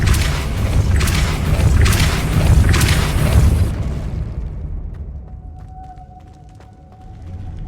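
Depulso spell cast in the video game Hogwarts Legacy, heard as a series of loud booming bursts over a rumbling bed, then fading to a quieter hum with a faint tone.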